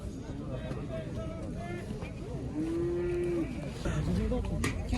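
Cattle low in a long, clear moo midway through, set among other animals and the steady bustle of a busy livestock market in Kara-Balta, with people talking throughout.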